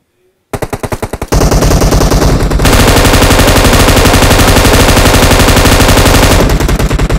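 Loud, close automatic gunfire in the PUBG Mobile shooter, a few quick bursts that break into a long continuous stream of rapid shots before stopping abruptly.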